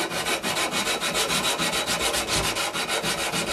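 Abrasive sanding of copper pipe to clean it ahead of soldering while replacing a shower valve, a steady rhythmic rasping of back-and-forth strokes, close and continuous, with no talking.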